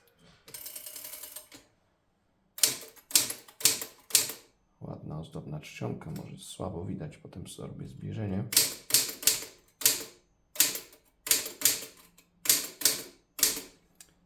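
Typewriter keys striking on a Stoewer Model 4 machine with paper loaded, bursts of sharp rapid clacks separated by pauses, with a person speaking in between the typing runs.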